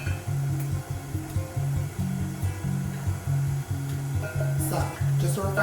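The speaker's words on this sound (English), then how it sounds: "we're gonna go ahead and get our mixer moving again" A stand mixer runs steadily, mixing dog treat dough with sweet potato and pumpkin puree. Its close, continuous motor whir shifts slightly in pitch throughout.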